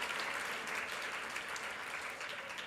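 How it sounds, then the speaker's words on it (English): Audience at an anniversary gala honoring award recipients breaks into steady applause, a continuous patter of many hands heard from some distance, fairly soft and even throughout. "Give them a round of applause."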